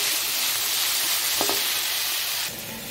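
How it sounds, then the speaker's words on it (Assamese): Tomatoes fry in a pan with salt, turmeric, chili powder and garam masala, giving a steady close sizzle, with a brief scrape of stirring midway and the hiss easing slightly near the end. "এতিয়া বিলাহীখিনি অকণমান ইয়ালে নিমখ, হালধি, জলকীয়া গুড়ি আৰু অকণমান গৰম মছলা দিম।"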